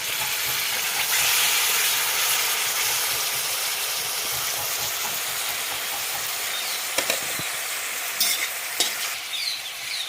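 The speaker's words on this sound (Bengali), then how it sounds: "এর মধ্যে দিয়ে দিচ্ছি দেশি মুরগির মাংসটা" Pieces of country chicken added to hot oil in a wok, sizzling loudly and steadily up close, with occasional clinks and scrapes of a spatula toward the end.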